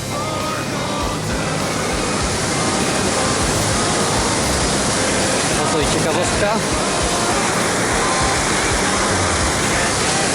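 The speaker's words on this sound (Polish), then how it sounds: "Płynie niezła rzeka pod firmą, pod budynkiem." Loud, steady rush of a river flowing under a building, filling the whole scene, with a person speaking briefly in Polish over the roar.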